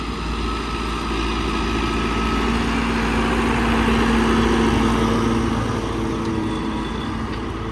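An old MTZ 892 tractor engine idles and chugs steadily nearby, a low continuous rumble with a slight swell midway and no voices.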